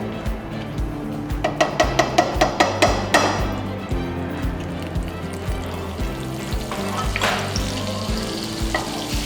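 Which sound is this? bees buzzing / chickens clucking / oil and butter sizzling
oil and butter sizzling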